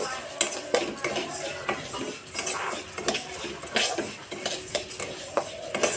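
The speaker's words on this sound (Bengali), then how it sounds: "মুগের ডালটা ভালো করে একটু ভেজে নেব" Moong dal is fried and stirred in a wok (kadai), busy clinks and scrapes of a metal spoon against the pan in an uneven rhythm over a soft sizzle, close and fairly loud.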